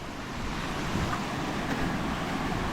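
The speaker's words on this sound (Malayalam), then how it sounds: "ഇതാണ് നമ്മൾ മേളിൽ നിന്ന് കണ്ട വെള്ളച്ചാട്ടത്തിൻ്റെ താഴെയുള്ള വെള്ളച്ചാട്ടം" A small waterfall lower down from a larger one, in tea estate country around Pullikanam, pours in a steady, full-bodied rush of water, close and constant with no voices.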